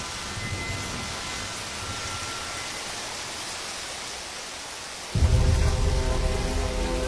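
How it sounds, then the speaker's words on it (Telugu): Steady rain falling as an even broadband hiss, moderately loud, with a sudden heavier, closer burst near the end. "అయ్యో, ఈ వాన ఒకటి."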